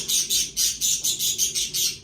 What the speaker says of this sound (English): my birds are chirping OD right now